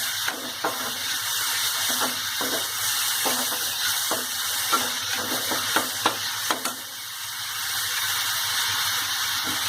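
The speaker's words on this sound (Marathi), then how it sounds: "कांदा चांगला परतून घ्यायचा आहे." Onion sautéing in a pan for a sprouted mung bean curry, with a steady broad sizzle throughout and repeated soft scraping stirs of a spoon, close and without voices.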